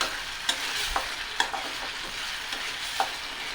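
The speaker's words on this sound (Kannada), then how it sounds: "ಲೋ ಫ್ಲೇಮಲ್ಲಿ ಇಟ್ಟೆ ನಾನು ಸ್ವಲ್ಪ ಹಾಗೆ ಫ್ರೈ ಮಾಡ್ಕೊಳ್ಳೋಣ" A veldt grape and tamarind chutney fries gently over a low flame, a soft steady sizzle broken by regular scraping strokes of a stirring spoon about every half second.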